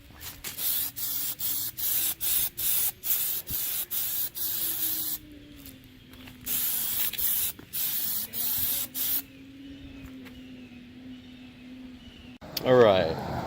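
Spray paint goes on as a coat in a run of short, sharp hissing bursts with brief pauses between them, close and loud, over faint background music.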